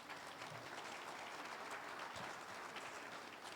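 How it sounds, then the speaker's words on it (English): An audience at a conference session on AI adoption applauds a speaker with steady, dense clapping that lasts throughout, heard from a distance at a fairly low level. "Please, round of applause for Parol."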